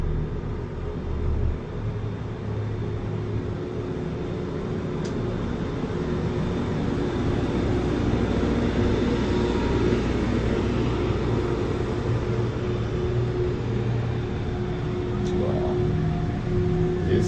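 Gondola lift machinery in Vancouver runs with a steady, loud mechanical rumble and hum, continuous and unchanging throughout, with no voices.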